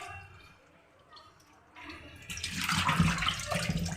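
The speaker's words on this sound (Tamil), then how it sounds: "நல்லா தண்ணி விட்டு க்ளீனாக வாஷ் பண்ணுங்கள்." Tap water runs over goat intestines being washed clean by hand, at first a soft trickle, then swelling into a louder, steady splashing gush.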